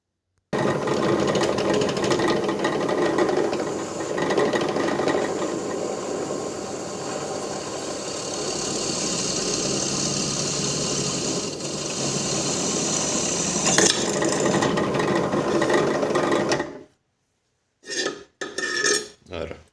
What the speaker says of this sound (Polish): Teraz pokażę jak to wiertarka wierci.